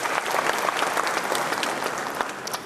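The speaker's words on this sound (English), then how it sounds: "Shall we do a big round of applause for her?" An audience at an honorific lecture in Ghana applauds a Supreme Court justice, giving dense, sustained clapping from a sizable crowd, fairly close and even in loudness.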